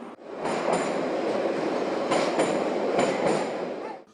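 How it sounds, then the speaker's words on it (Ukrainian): A metro train runs through Maidan Nezalezhnosti station in Kyiv with a steady, loud rumble, wheels clattering over rail joints and brief squeals. Faint voices sit beneath the roar, which fades away at the end. "Станція метро Майдан Незалежності"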